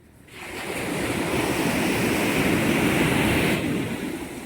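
Steady rushing surf of sea waves, loud and close, swelling in and then easing off toward the end, with no voices.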